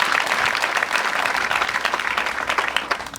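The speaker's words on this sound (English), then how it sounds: "Why don't we clap for them?" Students clapping together at a school event, a lively dense burst of applause that stays loud and gradually thins toward the end, with no one speaking.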